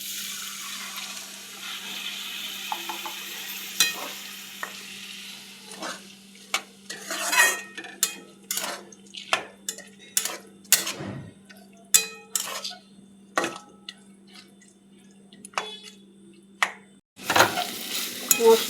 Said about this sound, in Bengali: ডাল দিয়ে 1 মিনিট নাড়াচাড়া করে নিলাম।